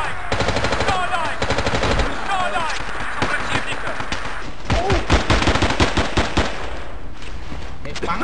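Gunfire in the Battlefield 2 video game, with rapid automatic bursts and sharp repeated shots rattling in quick clusters, loud and close, alongside a talking voice.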